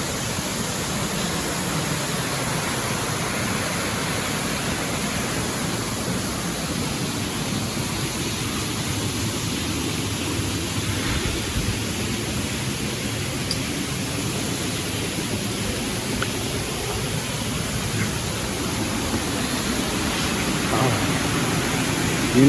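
Steady broadband rushing of a waterfall at Edenvale Woods, Ireland, a constant close roar with no breaks, alone without voices.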